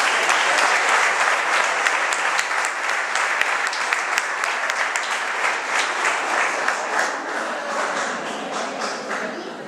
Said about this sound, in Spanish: Para ellos también el aplauso de todos ustedes.